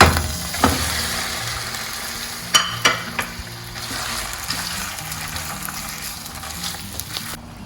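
Prawns sizzle in two spoons of olive oil in a pan, a steady close frying hiss with sharp pops and spatters and a few clatters of stirring, no voices.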